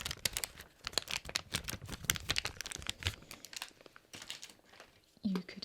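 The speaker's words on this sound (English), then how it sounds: "crisp packets." Close, crisp crinkling of a crisp packet being handled in quick irregular bursts, with soft speech in between and brief pauses.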